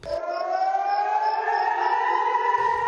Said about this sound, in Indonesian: Usai drone berhasil diluncurkan di udara, tak lama sirine serangan pun berbunyi.